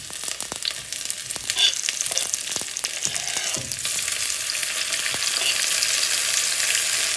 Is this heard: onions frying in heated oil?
yes